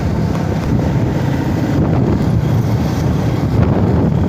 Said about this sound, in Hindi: जावेद भाई ड्राइवर बन चुके हैं बाइक के और बाइक का सफ़र कर रहे हैं।